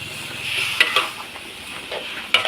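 Steady sizzling of luffa with pork and fresh chilies being stir-fried in a large wok, with a few sharp scraping clinks of a utensil against the metal.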